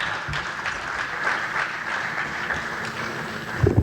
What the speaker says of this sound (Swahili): naomba tena tupige makofi mengi kabisa kwa mgeni rasmi